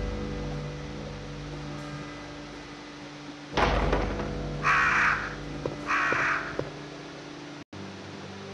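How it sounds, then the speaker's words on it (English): Crows caw in the Resident Evil Director's Cut video game over a steady droning ambience, with a sharp thud and then two rough caws in quick succession, loud and close. "so far I'm not getting wrecked by crows"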